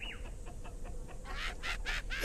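Chicken clucking in the video game Mimpi Dreams: a short run of quick, evenly spaced clucks, moderately loud over a steady game background, with brighter bursts toward the end.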